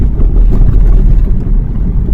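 Steady low cold wind on a sunny 10°C day rumbling and buffeting against the microphone, loud and continuous with no voices.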